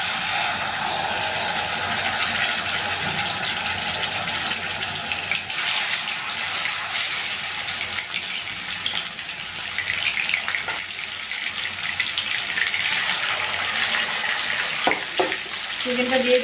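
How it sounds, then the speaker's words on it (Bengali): Chicken pieces fry in hot oil with a dense, steady hiss and crackle that holds level throughout, close up, with a few small clinks near the end. "তো তেলটা গরম হয়েছে, এখন আমি চিকেনটা দিয়ে দিচ্ছি।"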